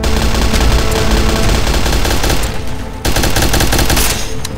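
Rapid automatic gunfire from a Garry's Mod Fallout DarkRP game session, loud and sustained bursts with a brief break near three seconds before the shooting resumes, no talking over it.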